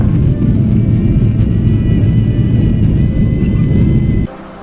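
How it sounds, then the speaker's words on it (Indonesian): A Garuda Indonesia airliner taking off from Sentani Airport in Jayapura, heard from inside the cabin as a loud, steady engine roar and rumble that cuts off sharply near the end. "giliran pesawat Garuda Indonesia yang kami naiki ini lepas landas dari Bandara Sentani Jayapura"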